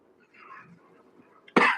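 A single sharp, close cough bursts out at the end after a soft, murmured vocal sound.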